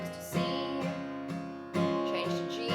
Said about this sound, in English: we're going to be doing all down strums and only counting to 6 on each chord.